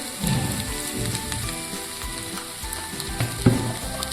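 Steady sizzling of vegetables frying in a pan, with soft stirring sounds and a brief clink from a utensil near the end.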